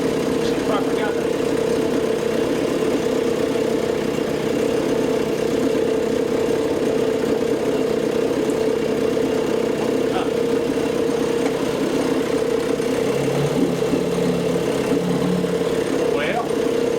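A 6 HP Johnson outboard motor runs steadily at a constant droning pitch throughout, close by, with a person talking intermittently over it.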